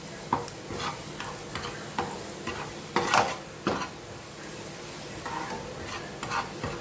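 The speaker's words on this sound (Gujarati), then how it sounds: "થોડી વાર મસાલાને પાકવા દઈએ." Kutchi dabeli masala is stirred and fried in a pan over a low gas flame, with soft sizzling broken by repeated scraping strokes of the spoon.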